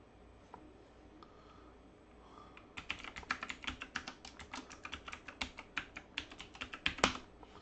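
A username and password typed on a computer keyboard: quiet room tone at first, then a rapid, uneven run of close, crisp key clicks lasting several seconds.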